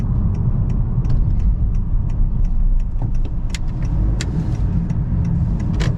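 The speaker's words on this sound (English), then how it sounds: "This is just some light throttle." A Honda Accord engine under light throttle on a Brooklyn, New York street, a steady low rumble heard from inside the car with faint light clicks and rattles over it.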